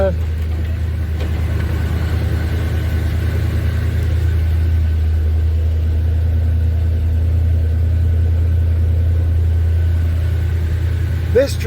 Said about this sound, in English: it's been a long time since I've started this truck